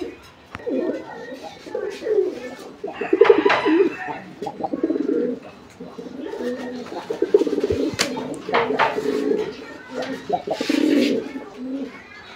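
Coloured Rajgolla pigeons coo in repeated throaty, rolling phrases, close and fairly loud, with someone talking over and between the calls.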